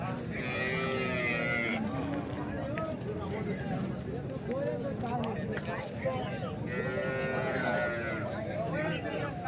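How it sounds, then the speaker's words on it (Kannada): Several dairy cows moo repeatedly at a busy cattle market in Chintamani, their long calls rising over steady crowd chatter and background bustle. "ತುಂಬ ಹಸುಗಳಾದರೆ ಬಂದಿದ್ದಾವೆ"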